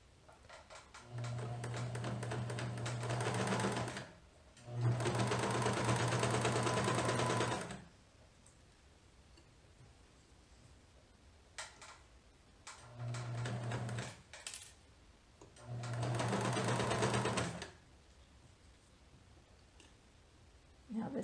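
A sewing machine stitches a pinned garment seam for Vogue 9057 in long motor-driven runs with steady harmonic hum, stopping and restarting several times, with quiet handling clicks in the pauses.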